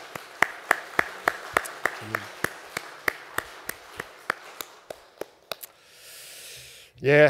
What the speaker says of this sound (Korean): 첫 주일 우리 한 번 더 우리 하나님께 감사의 박수를 올려드리면 좋겠습니다.